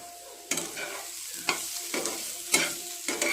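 Aloo tomato curry stirred in a pan after the lid comes off: a low sizzle broken by several distinct scraping and clanking spoon strokes against the metal, close by and with no talking.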